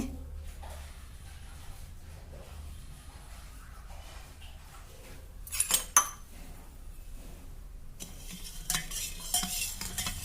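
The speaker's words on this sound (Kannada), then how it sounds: "ಈಗ ಇದನ್ನು ದೊಡ್ಡ ಚಮಚಲಿ ಮೂರು ಚಮಚ ಐತಿ ಅದ ಹಾಕಾಕತ್ತೀನಿ" Kokum juice concentrate spooned from a large spoon and stirred, giving soft scraping and stirring with a couple of sharper clinks of a spoon on the vessel partway through, close and fairly quiet.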